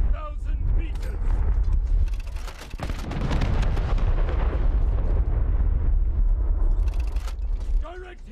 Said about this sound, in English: Direct hit! Enemy ship on fire! Shells on target!